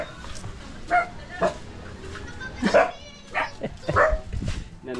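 A dog barks a few times in short separated bursts at moderate distance outdoors, with faint voices and background noise around it.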